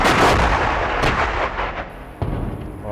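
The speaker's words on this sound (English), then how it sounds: "Now they're shooting at us. Artillery." Artillery fire at Stalingrad in 1942, loud booming blasts that roll and decay into a rumbling wash, followed by a second sharp detonation, with no voices over it.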